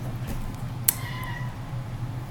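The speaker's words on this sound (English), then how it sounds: "My cat is up here. Say hi, kitty." A pet cat gives a single brief meow over a steady low hum, fairly close and not very loud, with no one speaking.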